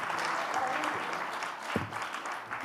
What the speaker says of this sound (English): Big round of applause for Steve Smith.